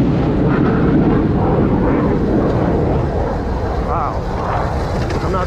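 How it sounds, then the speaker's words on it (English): A pair of F-35 fighter jets turning overhead above a high mountain trail at 8100 ft, heard as a loud, steady broadband roar that fills the clip with a slight rising whine near the end, with a person talking over it. "there's like a couple of F-35s that just did a U-turn right over me"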